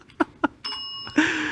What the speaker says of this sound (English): At the end of the minute, you're going to hear this bell.